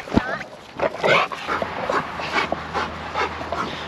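Dogs scuffle in a short, chaotic brawl, with yips, barks and whimpers in sharp bursts, while people speak and shout over the commotion close by.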